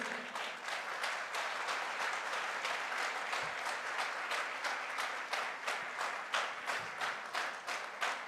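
Steady, fairly faint crowd applause at a direct-selling promotion event in Goa, a continuous patter of many hands with a loose rhythmic pulse.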